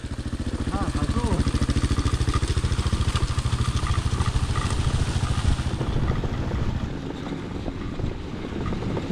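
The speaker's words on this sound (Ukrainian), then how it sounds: "Газуй, газуй!" A motorcycle engine revs steadily on a mountain ride, a dense throbbing drone close to the microphone with wind buffeting throughout; a voice calls out briefly over it.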